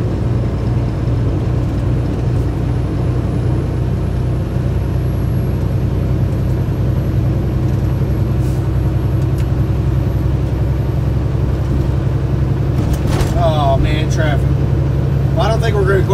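A 2018 Kenworth T680 truck with an automatic transmission accelerates through its gears toward highway speed, a steady loud low engine drone inside the cab, with someone talking over it throughout.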